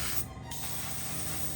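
An airbrush sprays overly thick paint onto a 009 scale NGG16 Beyer Garratt model locomotive, a short close hiss with a brief dip as the paint spits and sputters through the nozzle.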